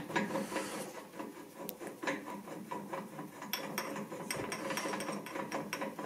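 Ratchet wrench clicking in quick, uneven bursts while loosening the wheel nut on a 2020 Suzuki GSX-S 750 motorcycle during a front tire change, close and fairly quiet, with metallic rubbing between strokes and no talk.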